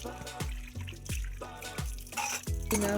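Brass utensils are washed under water, ringing out in a steady series of loud metallic clanks, each with a lingering resonant tone over a continuous splash and trickle.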